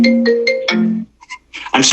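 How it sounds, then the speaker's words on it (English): A phone rings during an online faculty meeting, a melodic ringtone of repeated rising notes, fairly loud and alone, pausing briefly before a brighter burst at the end. "somebody's phone is ringing"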